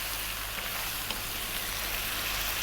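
Fresh chopped tomato frying with chili in a pan for Indian-style chicken with potatoes, a dense, loud, even sizzle and hiss held steady throughout with no voice.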